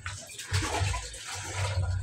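Water is drawn with a bucket, heard as a close, uneven splashing pour with a couple of louder gushes and low sloshing. No voices are present.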